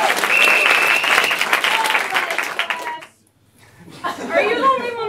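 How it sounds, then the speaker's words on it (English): Audience applause at a live comedy show, a dense wash of clapping that stops abruptly after about three seconds, followed by a short pause and then talking. "Alright, round of applause for Ken."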